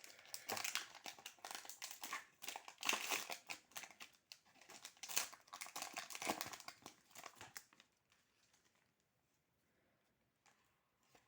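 A Pokémon card booster pack wrapper being torn open, making close crinkly plastic rustling and tearing in uneven bursts for about eight seconds before it fades to faint, sparse rustles.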